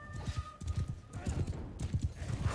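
Galloping horse hooves clop in a fast, steady rhythm through the battle in Mount & Blade II: Bannerlord, with a brief whinny and a voice talking over the hoofbeats.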